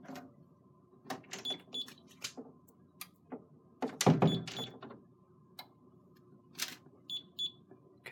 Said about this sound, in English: I'm just going to have to push this and open the door.